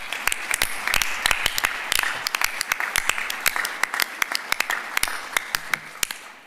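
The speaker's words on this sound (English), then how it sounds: "Please give them all a round of applause." Scattered claps ring out from a small audience at a State of the County address, sharp, distinct hand strikes in an irregular rhythm rather than a full roar, tapering off toward the end.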